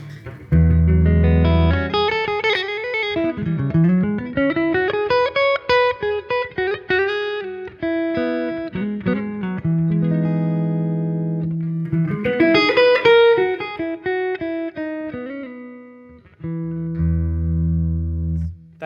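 Clean electric guitar through an inexpensive practice amp, picked as melodic runs with ringing chords and low sustained notes, loud and close with no talking.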